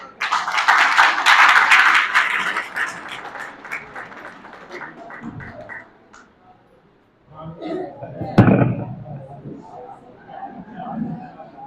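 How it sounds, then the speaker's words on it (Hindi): An audience claps and applauds to welcome a speaker at an opening event in Allahabad, loud and dense at first and then thinning out, with crowd chatter and a voice coming in over a brief second burst. "आप लोग दोनों हाथों से तालियां बजा करके स्वागत करिए"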